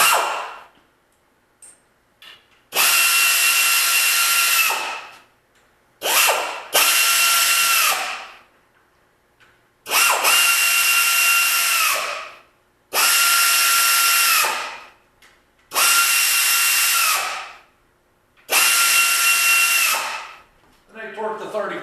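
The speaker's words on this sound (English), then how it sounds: "I'll start out with just tightening them up a little bit with a 3/8 air ratchet." A 3/8 air ratchet snugging engine bolts on an N-14 engine, sounding in loud bursts of several seconds of pneumatic whirring and buzzing, separated by short gaps, up close with no talking.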